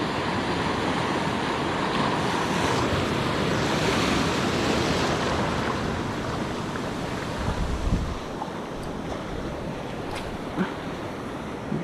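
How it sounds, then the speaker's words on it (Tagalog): Heavy surf breaking over a reef roars continuously with strong wind noise buffeting the microphone, a dense wash of crashing waves close by. "Grabe na laki ng alon."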